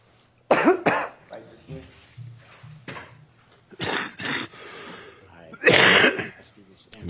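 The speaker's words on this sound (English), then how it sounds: "Another cough." Several sharp coughs ring out in a courtroom during a murder trial, separate bursts spaced over a few seconds, fairly close and loud, with quiet room noise and faint murmuring between them.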